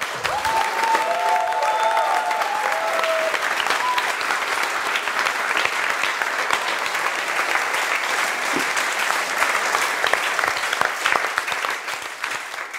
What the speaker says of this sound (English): we can also have a round of applause for Christian for the Cheese and Wine Party